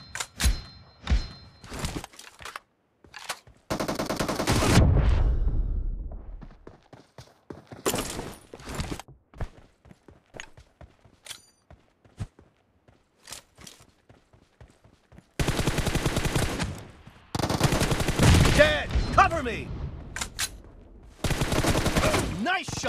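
Gunfire in the mobile battle royale game PUBG Mobile during a team deathmatch, sharp single shots and sustained automatic bursts alternating with short silences across the clip.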